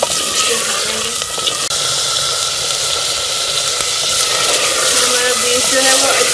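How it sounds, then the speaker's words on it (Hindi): Beef fries in ghee with garlic-ginger paste, giving a loud, dense, unbroken sizzle that holds steady throughout at close range. "अब हम इसमें ये बीफ शामिल कर लेंगे और बीफ को अच्छी तरह से हम इसमें फ्राई कर लेंगे।"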